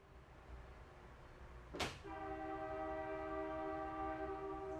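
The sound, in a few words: passenger train horn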